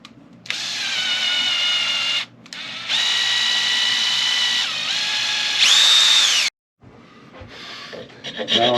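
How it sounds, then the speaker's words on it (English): A power drill with a twist bit reams out an existing hole in a mandola part in several sustained whining bursts with brief stops between them, ending in softer handling noise. "So I'm just going to take a twist bit so I can center it on the existing hole"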